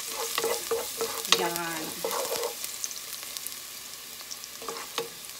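Garlic sizzles in hot oil in a pan, a steady frying hiss broken by several stirring scrapes and clatters, with a brief spoken word near the start.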